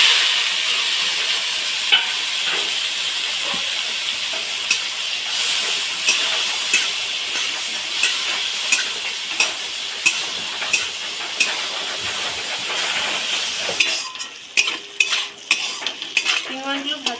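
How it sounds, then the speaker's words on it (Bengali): Prawns fry in hot oil in a pan, a loud continuous sizzle broken by regular metal clinks as a utensil stirs them, ending in a quicker burst of clattering scrapes. "চিংড়িগুলো ভাজা হয়ে তুলে নেবো।"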